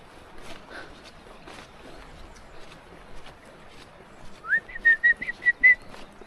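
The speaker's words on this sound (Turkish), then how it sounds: "Böyle ormanda gezerken ıslık çalmayı da seviyorum." A person whistles a short, rising-then-steady tune while walking in a winter forest near Uzungöl, several brief clear notes in a row, close and moderately loud.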